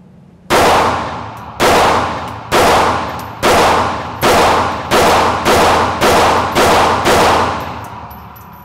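A brand-new Ruger LCP MAX pistol fires ten rapid rounds at a range, each a loud sharp crack with a ringing decay, evenly spaced and quickening slightly toward the end.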